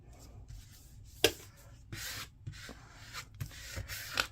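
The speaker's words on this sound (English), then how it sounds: "And I squeegee that down." A squeegee presses paper down onto a papercraft tote, giving soft, close, intermittent swipes and rubs, a few separate strokes with brief pauses, faint and with no voices.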